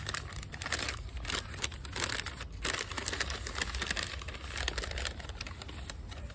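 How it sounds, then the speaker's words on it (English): Packing tape being peeled from an orchid shipping box, a rapid crackling, ripping texture with papery crinkles in quick uneven bursts, close and moderately loud, with no talking. "I'm trying to peel the tape off."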